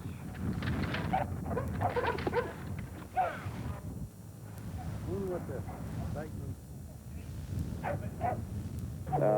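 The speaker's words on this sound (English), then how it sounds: "This is an aggressive response dog." A Dutch police aggressive-response dog barks and yips in short bursts, with a person speaking over much of it and low background rumble throughout.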